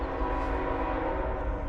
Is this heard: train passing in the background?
yes